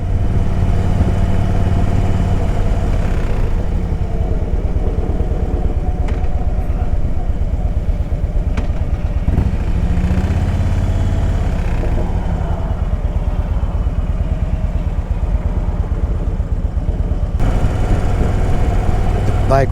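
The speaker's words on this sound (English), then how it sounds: "Bike runs very smooth" A 2008 Harley-Davidson Road King engine runs steadily nearby, a continuous low rumbling throb that holds even throughout with a few faint clicks.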